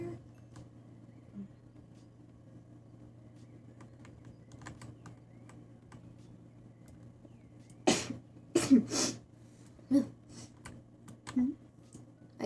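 Two or three sharp human sneezes burst out loudly in quick succession after a long stretch of quiet room noise with faint clicks and a steady low hum, followed by a few softer small sounds.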